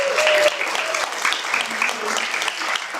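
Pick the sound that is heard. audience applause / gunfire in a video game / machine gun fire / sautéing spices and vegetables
audience applause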